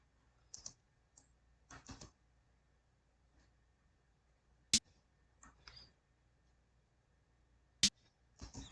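Mouse buttons clicked to enter notes in beat-making software: a handful of sharp, isolated clicks spaced irregularly over a quiet room, with two louder snaps standing out among the softer taps.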